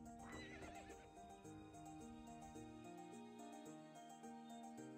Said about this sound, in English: I wonder if Neil got off that horse yet